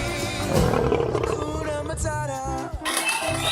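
A battery-powered toy lion lets out a continuous electronic roar, loud and close, with a brief dip near the end before the roar resumes.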